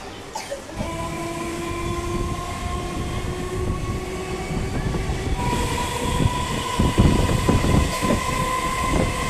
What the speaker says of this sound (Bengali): সামনে ছুটে চলেছে 37852 বর্ধমান হাওড়া লোকাল ভায়া মেন লাইন।